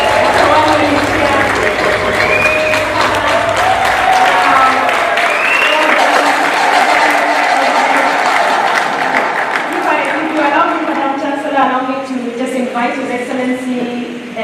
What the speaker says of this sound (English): That's the one where you cheer.